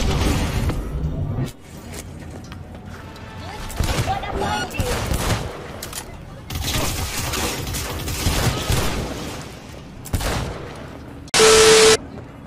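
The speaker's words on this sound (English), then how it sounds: "Yes, I love explosions." Video game explosions and rapid gunfire go off in loud, dense bursts, with a pause or two between, ending in a steady electronic tone.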